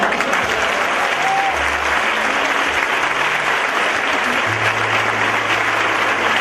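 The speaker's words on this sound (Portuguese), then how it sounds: "Aplauda essa mulher." A church congregation claps continuously during a sermon, steady dense applause filling the hall at an even level, with a low held organ or keyboard tone and faint voices mixed underneath.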